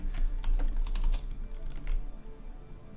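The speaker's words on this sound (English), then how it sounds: "Can't type an exclamation mark." Fast, uneven typing on a computer keyboard, a close flurry of clicky keystrokes that thins out toward the end, with no talk.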